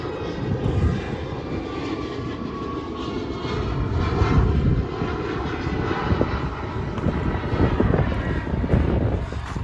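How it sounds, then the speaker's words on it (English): A fixed-wing airplane passes overhead beneath the flight path of an international airport, its steady engine roar loud and continuous, swelling slightly as it goes over. "I'm right under the flight path of an international airport."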